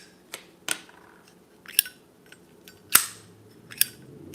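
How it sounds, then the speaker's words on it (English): Sharp metallic clicks from a 2014 Zippo lighter lid snapping open and shut, five crisp isolated snaps spaced irregularly over a quiet background. "you can see even Zippos make a little bit different noise"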